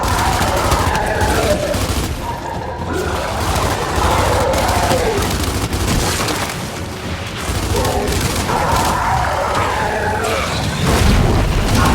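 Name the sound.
frag grenade explosions and gunfire in video game Gears of War 5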